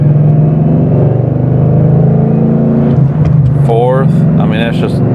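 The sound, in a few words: 2013 Mustang GT accelerating, shifting MT82 manual gearbox through gears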